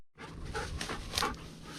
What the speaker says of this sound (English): your dog must have something